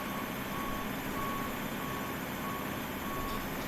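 An airport baggage vehicle from GSX in Microsoft Flight Simulator backs up, its reversing alarm sounding evenly spaced single beeps, about one every 0.6 seconds, over a steady loud engine and ground-service drone, with no voices.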